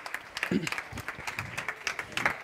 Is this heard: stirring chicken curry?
no